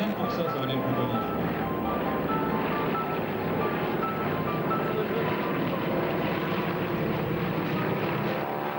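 Vintage propeller airplanes drone overhead at the 1996 Darois air show, a loud continuous engine rumble filling the air with crowd and spectator chatter mixed in.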